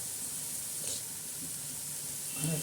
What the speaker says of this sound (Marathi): आता खमंग असा मसाला आपला भाजत आहे बघा